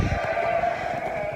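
A single sheep gives a sustained, nasal bleat close by on a farm while livestock are being moved, loud and clear with no talking.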